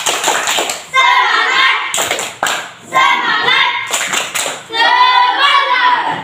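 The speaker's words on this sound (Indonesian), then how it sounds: "Tepuk tangan dulu untuk dua kelompok." A school class claps hands for two groups in loud, rhythmic bursts separated by short pauses, with children's chanting voices over the clapping.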